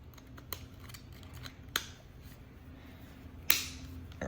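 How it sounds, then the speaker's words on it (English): Foil heads being removed from a Matsui Classic M clipper, trimmer and shaver: a few sharp plastic clicks and snaps, sparse and close in an otherwise quiet room, the last one loudest. "Right here is where you take off the foil heads,"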